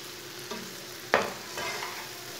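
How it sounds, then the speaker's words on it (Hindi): A spoon stirs beaten eggs through cooked ridge gourd in a pan, with a single sharp scrape midway over a soft, steady background hiss. "अंडों को अच्छी तरह मिक्स करके 2 मिनट तक पका लेंगे।"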